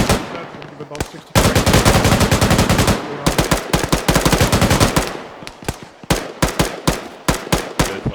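Rapid bursts of automatic gunfire crack out during a military platoon training exercise, with long sustained volleys followed by spaced single and double shots, loud and close.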